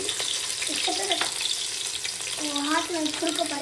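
Onions sizzling and frying in hot oil in a pan for chicken thokku biryani, a steady loud crackle with stirring scrapes and brief bursts of talk over it.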